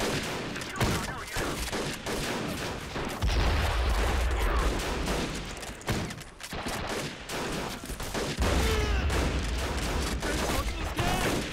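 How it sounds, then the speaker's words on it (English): Mortar and battlefield fire in Men of War: Assault Squad 2, a dense, continuous wash of distant shots and low booming impacts, with two heavier thumping stretches rolling under the din. "we do have close range mortars then we can use"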